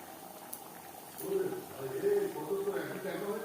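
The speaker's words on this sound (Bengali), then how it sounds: "গ্রেভি বেশ ভালো করে ফুটিয়ে নেব।" Fish curry gravy for a tilapia and onion-tomato dish bubbles in a pan, a soft steady simmer that swells after the first second and continues as a low gurgling bed.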